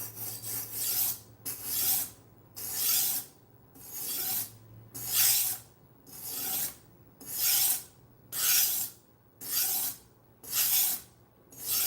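A budget knife blade is drawn across a 3000 grit sharpening stone in about ten even, rhythmic rasping strokes, close up and alone, with short quiet gaps between passes.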